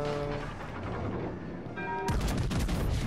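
Naval gunfire from World of Warships: Legends, a dense layered salvo with a sharp loud burst of shots near the end over a constant low engine and battle rumble.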